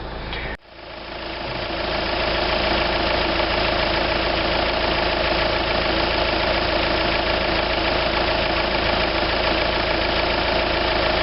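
A Volkswagen car engine idling steadily with a constant mechanical hum and rattle, after a brief click at the start.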